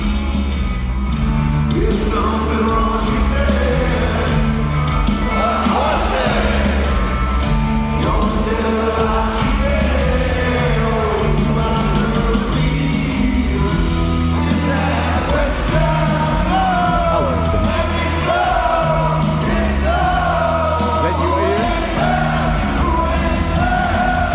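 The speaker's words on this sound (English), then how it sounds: "Crowd sounds awesome, right? Really good crowd." Live concert with a large crowd singing along and yelling over a loud, continuous band performance, voices blending into a dense roar throughout.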